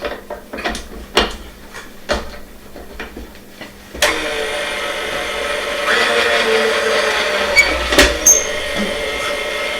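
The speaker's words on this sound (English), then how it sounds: "And we're going to put this on the mixer" A stand mixer fitted with a dough hook works rosemary olive bread dough. A few loud clicks and clunks come first, then a steady close mechanical whir and hum holds through the rest.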